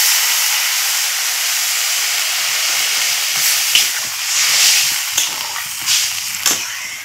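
Thin snakehead fish curry broth boiling hard in a pan, a loud continuous bubbling hiss with occasional sharper pops and sputters, close up.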